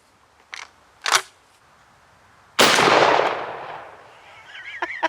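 A shotgun with a cylinder bore choke fires one loud outdoor blast of Upland number 6 steel shot at a pattern board. The blast follows a couple of faint clicks and leaves a long fading echo.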